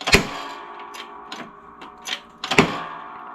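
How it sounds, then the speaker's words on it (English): A rusty idler or tensioner pulley bearing being pressed out gives a few sharp irregular clicks and cracks, with two louder snaps near the start and end and softer ticks between, close and alone. "That's just the sound of the bearing enjoying itself."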